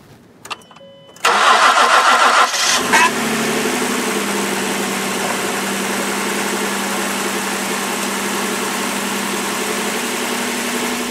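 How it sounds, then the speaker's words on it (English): A Ford Edge engine cold-starts at five below zero, cranking briefly with a whirring starter, catching, and settling into a steady rough idle, close and continuous. "Let's listen to her crank over and see what goes on."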